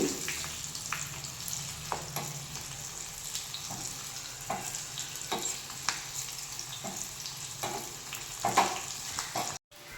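Garlic fries in oil for a tempering, with a moderate sizzle and intermittent scraping stirs and light clicks of a ladle against the pan, ending in a brief silence and a thump.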